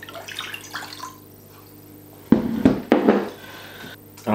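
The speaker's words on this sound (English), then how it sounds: "So I'll just have one mug full of cold water." Cold tap water runs into a mug in a kitchen, with a few sharp thunks of the mug and a bright splashing stream that starts and stops near the microphone.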